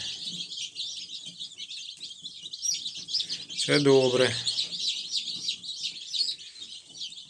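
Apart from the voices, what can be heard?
chicks peeping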